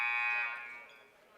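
High school girls' basketball game buzzer between Hemingford and Gordon-Rushville, a single loud, harsh electronic tone that holds steadily then decays and fades within about a second.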